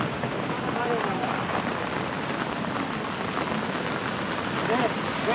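Steady rain patters heavily on the ground and surfaces at a dam in the early morning while people fish with cast nets, a dense, unbroken hiss close by that fills the whole scene without letting up.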